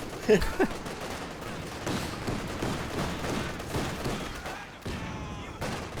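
Gunfire from Company of Heroes 2 crackles as a busy mix of rifle shots and machine-gun bursts with a few sharper reports up front, mid-distance battle noise continuing throughout.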